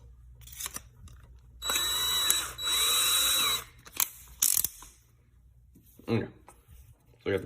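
A power drill bores out a cork fishing-rod grip in short bursts, two longer runs with a steady whine followed by brief blips, close up with quiet pauses between.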